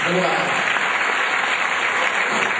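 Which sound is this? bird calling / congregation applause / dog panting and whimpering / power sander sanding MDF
congregation applause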